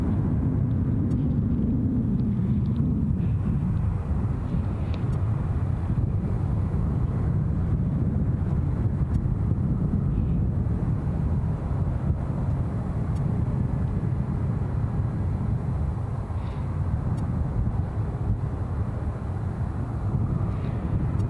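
A light aircraft at Glasgow International Airport, a steady distant engine drone with a slight pitch shift early on, blended with gusty wind noise across the microphone.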